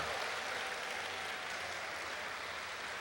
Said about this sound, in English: How about a round of applause for KC Electrical Services?